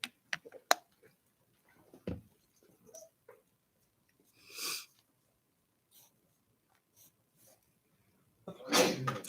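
A student sneezes in a quiet classroom during a math lesson, with a few sharp bursts spread across the stretch, including a loud close sneeze near the end, among faint shuffles and breaths.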